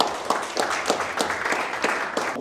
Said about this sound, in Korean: 뜨거운 박수로 정리합니다.